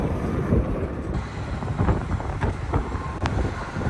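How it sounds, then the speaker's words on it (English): Strong desert wind in the American West buffets an RV on the road, a constant heavy rumbling roar of wind against the microphone with low road noise underneath and no speech. "The wind is unforgiving."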